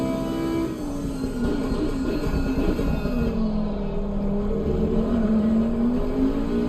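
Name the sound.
race car engine in video game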